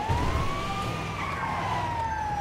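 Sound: ambulance siren in video game Grand Theft Auto 5

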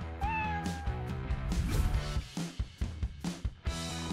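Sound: cat meowing

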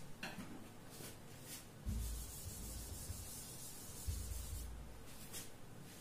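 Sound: erasing writing on a board by rubbing

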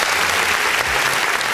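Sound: applause

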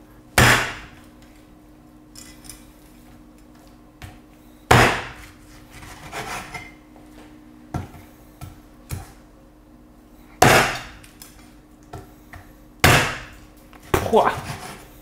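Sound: cleaver chopping a whole chicken into pieces

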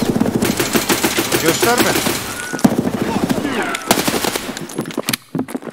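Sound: machine gun fire in a video game

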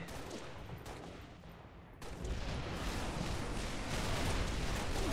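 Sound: gunfire in the video game Halo

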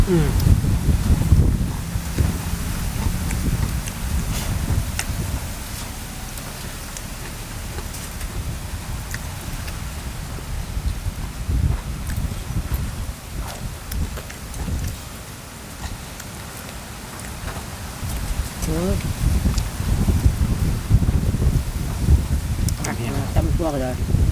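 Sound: cold dry wind blowing outdoors

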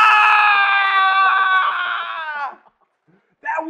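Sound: person imitating a screaming ice cream

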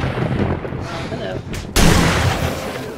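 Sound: gunfire shooting at zombie horde in 7 Days To Die video game

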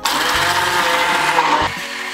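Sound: blender blending yogurt and egg whites for peach shake

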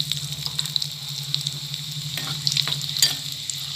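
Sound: garlic and green and red chilies frying with cumin

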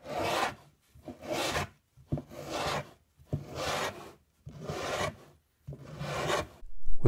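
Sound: rubbing plywood edge banding down with a block

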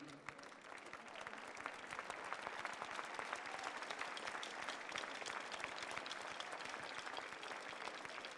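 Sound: applause at the Coupe du Monde de la Pâtisserie ceremony

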